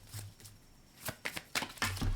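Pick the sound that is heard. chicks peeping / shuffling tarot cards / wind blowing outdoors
shuffling tarot cards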